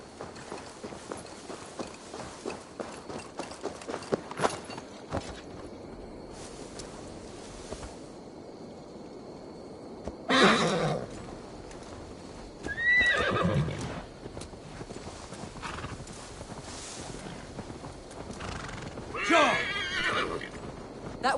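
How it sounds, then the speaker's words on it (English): A horse in a video game clip-clops along on hooves in a steady walking rhythm, broken by several loud, drawn-out neighs and whinnies with wind in the background and no talking. "Now to deliver Magni his horse."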